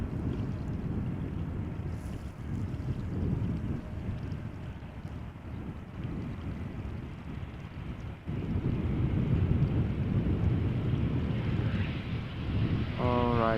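An Embraer 190 landing at Amsterdam Schiphol Airport, a distant broad engine roar heard through heavy wind rumble on the microphone, growing louder in the second half, with a rising whine at the very end.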